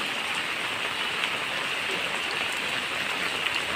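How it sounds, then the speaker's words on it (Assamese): Rain pouring steadily in an Assamese village, an even, dense hiss that holds at the same loudness throughout with no pauses. "কেনাই বৰষুণ"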